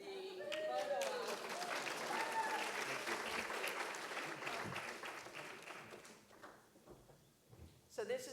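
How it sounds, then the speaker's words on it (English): Applause from an audience during a photo op: sustained clapping from a crowd that gradually thins and fades out, with voices talking over it near the end. "the applause is supposed to last through the photo op"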